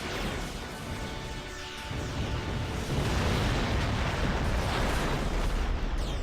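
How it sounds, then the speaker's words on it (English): A ship fleet blowing up in a strategy video game, a dense roaring wash of overlapping blasts that swells louder midway and holds as a continuous rumbling barrage. "Lots of explosions everywhere."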